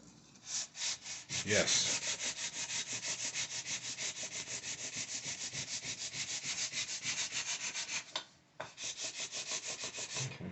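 Fresh sandpaper scrubs rapidly back and forth across a guitar body in a steady rhythmic rasp, close and loud, with one brief pause; a voice speaks a single short word at the start.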